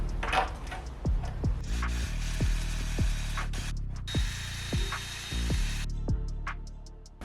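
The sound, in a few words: power drill drilling holes in plastic lip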